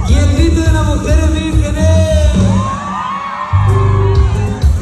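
A crowd of women at a fair in La Venta whoops and shouts loudly together, with sustained yells and cheers rising and falling over several seconds alongside music.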